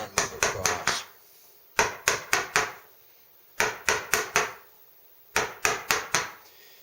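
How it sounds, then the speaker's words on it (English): Quarter-inch chisel cutting pine, a sharp tool struck in quick groups of four or five crisp taps with short pauses between the groups, close and fairly loud. "going to use a 1/4-inch chisel because I want to cut through this with the least amount of tearing"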